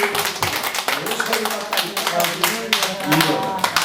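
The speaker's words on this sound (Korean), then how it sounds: "감사와 찬양과 영광의 박수 올려드립니다" Sharp, fast clapping from a church congregation during a Sunday worship service, a steady patter of claps mixed with a voice and tonal sound throughout.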